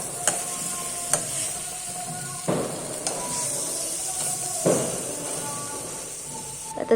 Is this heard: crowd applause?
no